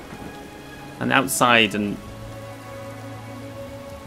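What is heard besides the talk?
rain in video game Morrowind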